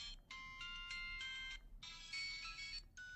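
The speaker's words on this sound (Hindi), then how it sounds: "सेटिंग में जाने के बाद इसमें रिंग सेटिंग पे जैसे जाएंगे तो इसमें रिंगटोन आएगी।" A phone ringtone plays a bright electronic melody in two phrases separated by a short pause, fairly quiet and clear.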